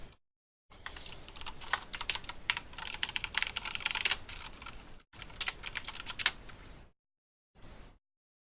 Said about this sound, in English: Imagine keyboard sound louder than voice.